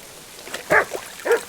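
A dog in the video game Kingdom Come Deliverance 2 gives two short, moderately loud barks about half a second apart, with a faint soft yip between them and quiet background.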